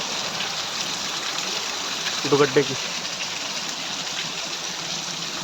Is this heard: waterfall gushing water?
yes